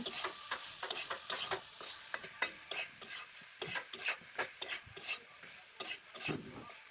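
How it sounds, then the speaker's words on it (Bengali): Soybean chunks with turmeric and salt fry in oil, a soft, fairly quiet sizzle under a quick, rhythmic run of spatula scrapes and taps against the pan. "এবার আমি ভালো করে সয়াবিনগুলোকে ভেজে নেব"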